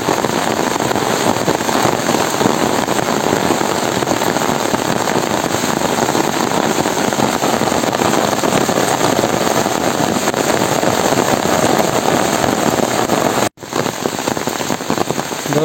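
Steady rain pours down outdoors at a fishing spot, a dense continuous hiss that stays loud and even throughout, with a brief dip near the end.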